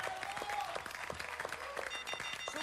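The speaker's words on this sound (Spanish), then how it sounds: "Un aplauso, señoras y señores," Studio audience applause on a television talk show, a steady wash of clapping at moderate distance with a faint voice underneath.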